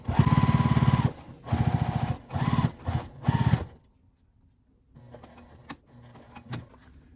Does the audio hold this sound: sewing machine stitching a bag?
yes